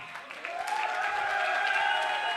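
Audience clapping at a live motivational talk, a steady crowd applause that swells after a quiet start and holds even and moderately loud, with a ringing tone running underneath.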